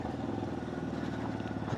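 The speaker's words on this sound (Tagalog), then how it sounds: "Tara 125cc CF Moto engine" CF Moto Papio Trail 125cc motorcycle engine, a small single-cylinder putter running steadily at low revs, close and continuous with a slight rattle.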